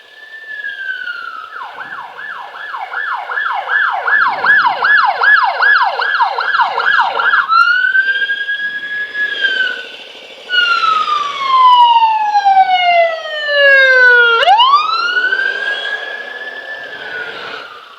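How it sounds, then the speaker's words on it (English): A police siren wails close by, cycling through fast yelp and slower wail patterns as the vehicle passes, loud and sustained. "Here comes another police car."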